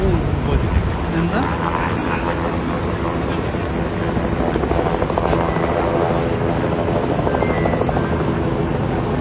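A helicopter flies over a flood rescue site in Rasuwa, Nepal, its loud continuous rotor drone and turbine roar sustained and close throughout, with wind buffeting the microphone.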